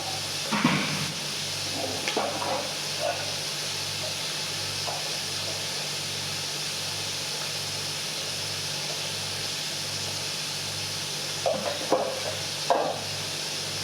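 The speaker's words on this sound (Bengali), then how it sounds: "পেঁয়াজ মরিচ আগে কষে নিতে আসি পরে ওগুলো দিচ্ছি" Onions and chillies fry and get stirred in a pan, giving a steady hiss and sizzle with occasional scraping stirs, close and continuous.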